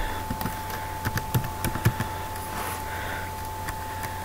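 Someone types on a non-Mac computer keyboard indoors. The soft, irregular key clicks come in short bursts, close by and fairly quiet, over a low steady hum.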